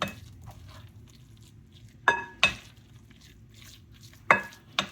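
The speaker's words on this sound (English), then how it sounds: "Just mix them in." Stuffed blue crab filling being mixed in a bowl with vegetables, a quiet stirring rustle broken by a few sharp clinks of a utensil against the bowl, with no voices.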